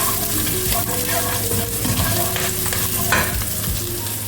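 Finely chopped garlic frying loudly in a hot pan while a spoon stirs it, a close, continuous sizzle broken by scraping strokes and a few metallic clinks, with no voices.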